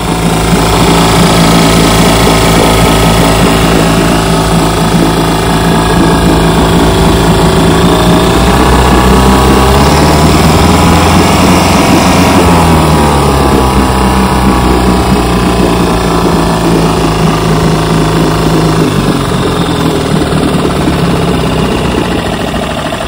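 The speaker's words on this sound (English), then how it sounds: "that fixed the carburetor. She runs great." A 1954 Gale Buccaneer 5 horsepower outboard motor, just after its carburetor was cleaned, runs steadily and very loud close up. It keeps up an even, buzzing drone with a slight change in pitch partway through.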